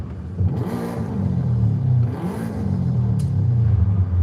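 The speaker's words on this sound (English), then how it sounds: "I want to make sure we got a pretty sick Boxster sound here." A Porsche Boxster sports car engine in Forza Horizon 5 revs up and down in a few swells, a deep throaty rumble that climbs and falls, loud and close with no talking.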